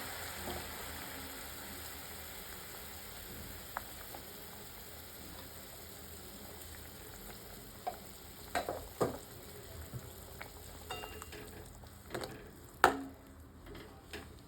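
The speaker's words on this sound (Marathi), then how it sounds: "आता मंद आचेवरती बारीक गॅसवरती आपल्याला 5 ते 10 मिनिटं ह्या शेवग्याच्या शेंगा शिजून द्यायच्या" Drumstick pods simmering in a curry with crushed peanuts over a low gas flame, a faint steady bubbling hiss with a few light clicks and scrapes toward the end.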